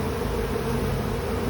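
Honey bees buzz during a September hive inspection, a dense, continuous drone of many bees close by, steady and loud with no talk.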